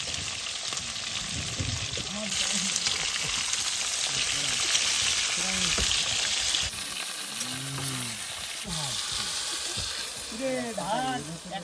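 Fish frying in a pan in a riverside cooking setting in the Sundarbans, with a continuous crackling sizzle and occasional clinks or stirs. Voices talk over it at moments.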